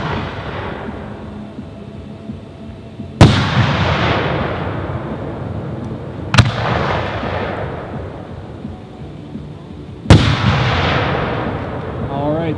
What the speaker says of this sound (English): These are Crown Pyrotechnics.